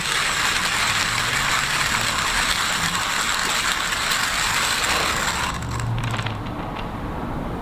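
A hand grinder crushes coffee beans for a Bialetti moka pot, a steady close ratcheting grind that runs continuously and evenly, easing slightly near the end.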